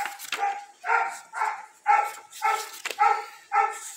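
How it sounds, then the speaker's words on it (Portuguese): A dog barks outdoors in a steady series of about seven or eight loud, evenly spaced barks, clear and fairly close, with no voices over them. "O cachorro está fazendo a parte dele lá fora."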